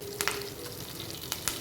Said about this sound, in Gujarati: તો બધું જ આપણે અહીંયા સાંતળી લીધું છે